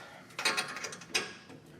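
Brake caliper slide bolts being tightened with a ratchet on a Ford F-series truck's rear brakes, a few quick metallic ratcheting clicks in two short bursts, close and quiet.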